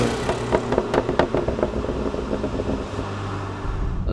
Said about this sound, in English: you get the exhaust note when you want it